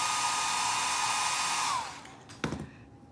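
A blow dryer drying stencil paint on a DIY tissue box cover runs loud and steady with a high whine, then winds down and stops, followed by a brief clatter.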